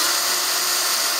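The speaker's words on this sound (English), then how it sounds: "to push the rivet the rest of the way through like these guys, 1/8 drill bit right in the middle" A high-pitched power drill with a 1/8-inch bit whines steadily and close up drilling out a rivet on a WS6 Trans Am, a continuous bright buzzing with no pauses or voices.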